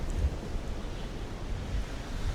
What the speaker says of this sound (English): Oh, look at all this wind.